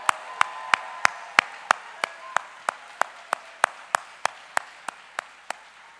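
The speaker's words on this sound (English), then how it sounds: "Give them another round of applause." Slow, evenly spaced single claps ring out at a student award ceremony, about sixteen sharp hits with a faint crowd wash beneath, sounding like one nearby person clapping in rhythm.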